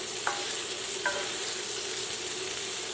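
Fish sears in a pan of butter and olive oil with a constant, even sizzle up close, broken by a couple of small pops and with no talking.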